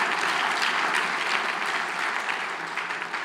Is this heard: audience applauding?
yes